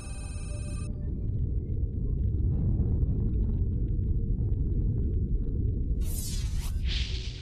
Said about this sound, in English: This is the spectrogram and sound of an undersea earthquake.